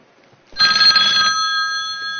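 A telephone bell rings loudly and close, a bright trilling ring that starts suddenly and carries on steadily to the end.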